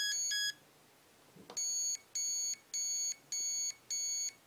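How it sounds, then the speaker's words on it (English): A HobbyWing Platinum Pro 40A electronic speed controller being programmed: a short electronic double beep, a faint click, then five evenly spaced high-pitched beeps, clear and close. "I heard those five beeps."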